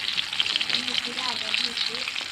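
Food crackles and sizzles steadily in hot oil, a close, continuous frying hiss with a faint voice in the background.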